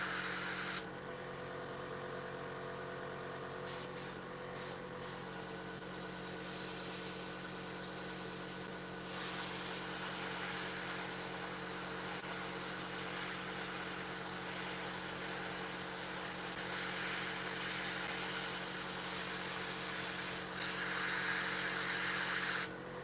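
An airbrush blows a steady, quiet hiss of air to clear dust from a 1/48 Eduard Tempest Mk.V scale model, with a few brief sputters early on before it continues as glossy varnish is sprayed.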